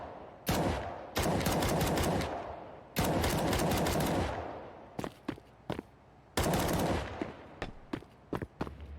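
Gunfire rings out in CS:GO on the Nuke map as players shoot through walls. Several long automatic bursts are followed by a string of short single shots and quick taps, loud and close.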